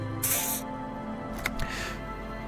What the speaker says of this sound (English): He douses you with an odd-smelling spray, a double helping as you present your other armpit